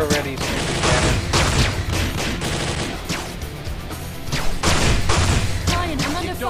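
Rapid automatic gunfire and heavy booms rattle through a video game firefight at a satellite center, with bursts of shots and explosions packed closely together, loud and continuous under players' voices.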